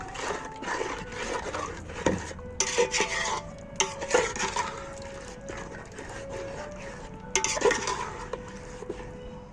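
A spoon stirs salt into water with potatoes in a pot, giving intermittent scraping and clinking against the metal, with a voice talking over it.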